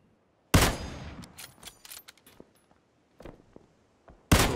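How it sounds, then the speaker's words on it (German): Gunfire in PlayerUnknown's Battlegrounds: a loud sharp shot burst, scattered fainter distant pops and clicks, then another loud blast at the end. "Da schießen noch andere Leute jetzt mit."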